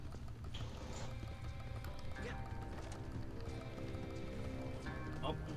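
Horse hooves clip-clop in a steady run through Red Dead Redemption 2, faint and dense under in-game music and ambience, with no speech over them.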